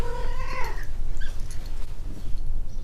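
A young Australian Mist cat lets out a loud, drawn-out yowl up close, then softer cries and rumbling noise follow.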